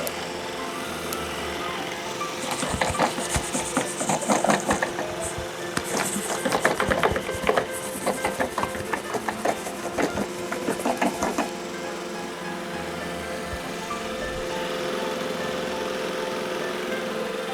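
A cheap robot vacuum cleaner runs with its brush out, giving a steady motor whir overlaid by a long run of rapid rattling, clattering hits from the spinning brush, then settling back to a smoother hum.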